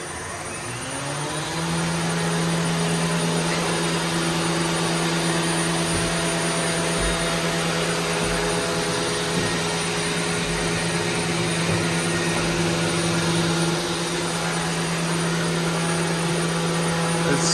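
A CNC machine runs continuously after a brief start-up, with its spindle set to 10,000 RPM and its table moving. A loud, steady mechanical whine and drone hold for the whole stretch, with no talking.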